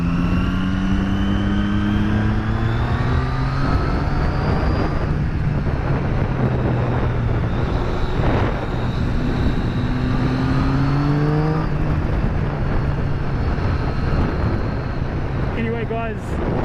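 A motorcycle engine and exhaust drone steadily while riding on roads with roundabouts. The pitch rises and falls as it revs through the gears, mixed with heavy wind rush, and a voice talks over it at times.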